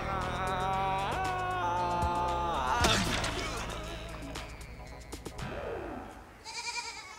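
Baby goats bleat in a run of wavering, nasal cries at close range, with a couple of sharp knocks partway through and a brief high chirping sound near the end.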